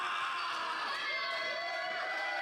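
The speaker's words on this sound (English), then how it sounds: "That crowd trying to will Brian White on." A crowd at a pure-wrestling event cheers steadily for wrestler Brian White. The noise is a continuous, fairly distant roar with scattered shouts.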